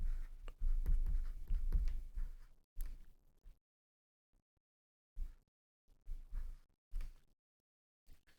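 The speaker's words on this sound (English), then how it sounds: "Let me write it down here." Marker or chalk scratching across a board during an algebra lesson on polynomial division, in a few scratchy bursts separated by short silent gaps, close and moderately loud, with no speech.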